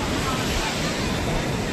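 Sea waves on the beach at Visakhapatnam give a loud, constant rushing wash mixed with heavy wind buffeting the microphone.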